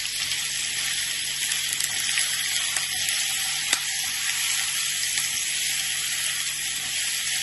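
Noodles with capsicum and onion being stirred in a hot pan, a steady broadband sizzle with faint scraping and a few sharp clicks of the utensil, continuous and close, with no voices.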